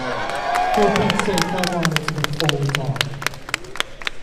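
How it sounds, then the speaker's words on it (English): A Comic-Con panel audience claps and cheers, a mix of scattered claps and crowd noise that thins into sparse individual claps while a voice talks over the start. "I would appreciate more applause than that"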